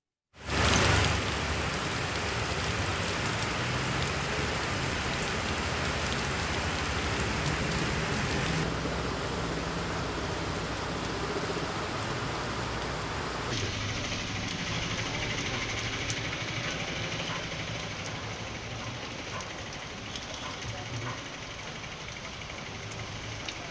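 Heavy rain pours down steadily during a monsoon-season storm in Andhra Pradesh, a dense, unbroken hiss that stays loud and even throughout with no voices.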